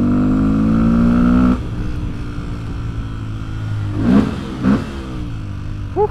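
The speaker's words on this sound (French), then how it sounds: "Échappement qui est bien sympathique." Exhaust note of a Fantic 125 motorcycle while riding, a steady engine drone that eases off after a strong stretch, then gives two short blips of the throttle, heard close with no talk.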